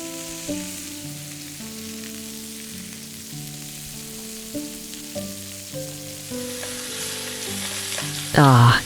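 Halibut fillets fry in hot oil in a carbon steel wok, a steady close sizzle under a gentle musical backing that runs throughout, with a sharp burst of crackle near the end.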